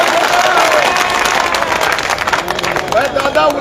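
Crowd applause at a political rally at a party workers' gathering in Haryana: steady, loud clapping from a large gathering, with some voices and cheers over it, thinning slightly toward the end.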